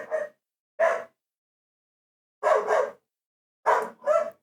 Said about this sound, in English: Why is the dog barking?